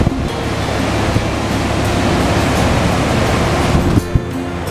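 Ocean surf rolls steadily onto a shore, a constant loud wash of breaking waves with wind buffeting the microphone and a couple of sharp gusts near the end.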